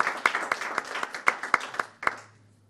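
A small audience gives a short round of applause, scattered distinct claps in an uneven rhythm that thin out and stop after about two seconds, leaving a faint hum.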